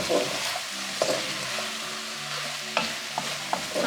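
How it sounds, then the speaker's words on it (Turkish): Ingredients and spices for a Turkish forest kebab (orman kebabı) being stirred with meat, a steady scraping mix with a few sharper clinks of spoon on the pan, close and alone without talk. "Şöyle bir malzemelerimizi, baharatlarımızı karıştıralım."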